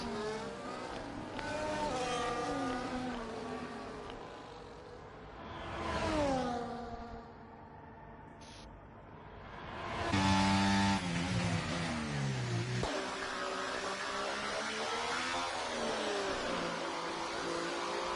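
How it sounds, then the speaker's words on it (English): A Ferrari Formula 1 car engine in the game F1 24, at the British Grand Prix, whines and revs through rising and falling gear shifts, a synthetic high-pitched drone with a brief dip before climbing again. "That is seriously the worst engine sound I've heard in a long time from F1 games for Ferrari"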